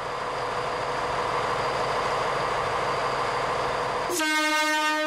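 A loud, steady rail or mechanical roar fills most of the clip during a JR Sanin Main Line train inspection, then a sustained train horn blasts near the end with a clear, harmonic tone.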